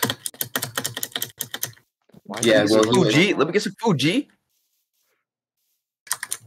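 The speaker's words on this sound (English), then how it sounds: "Why is your keyboard so loud?" Rapid clacking from a loud Microsoft computer keyboard during a live Minecraft stream, dense bursts of keystrokes in the first seconds and again at the end, with a voice talking in between.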